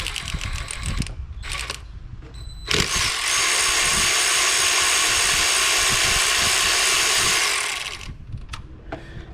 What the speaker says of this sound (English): we're going to go ahead and remove the two 10mm bolts